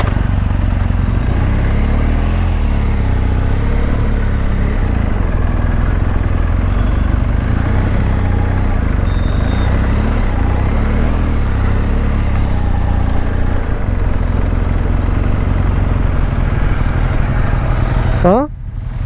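A BMW R 1250 GS motorcycle engine running on the road, its steady, loud low rumble with constant clatter and wind noise continuing throughout, heard from the rider's position.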